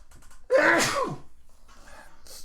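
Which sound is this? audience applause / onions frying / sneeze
sneeze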